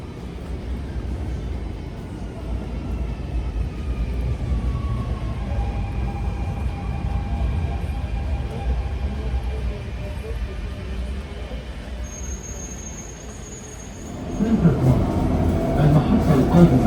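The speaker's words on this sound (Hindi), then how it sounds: "ट्रेन भी आई गई है।" A train pulls into a station on the Dubai Metro line from Ras Al Khaimah. A steady rolling hum and rumble carries faint tonal whines, with a brief high squeal, then a louder surge of noise as the train comes to a stop.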